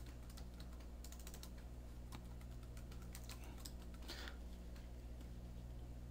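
Slide headings being typed on a computer keyboard, with bursts of quick, light key clicks and pauses between, faint and close over a steady low electrical hum.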